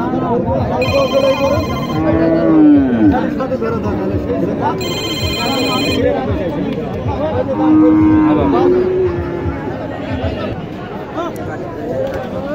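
A mobile phone rings with an incoming call at the Chhatra cattle market in Niamatpur, Naogaon, two bright bursts of ringtone cutting through nearby lowing cattle and ongoing talk.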